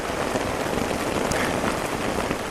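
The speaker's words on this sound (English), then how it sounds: "the rain beat down for some time, vent its fury for a while. It is really pelting down now." Heavy rain pelts steadily onto a tent and tarp in the wilderness, a dense, close, continuous patter with scattered sharper drops and no voices.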